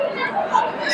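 A dense crowd chatters at the Tukaram Maharaj temple fair in Yehalegaon, a close, busy wash of overlapping adult and children's voices with no pause.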